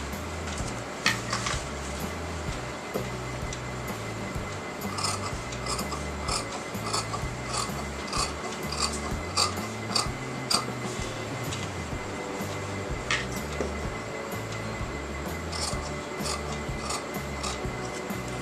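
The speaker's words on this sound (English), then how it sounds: "now I'm going to cut this out. Okay, now cut the inner part." Scissors cut through canvas fabric to shape a neckline, a continuous close rasping and crunching of blades on stiff cloth with intermittent sharper snips throughout, no talking.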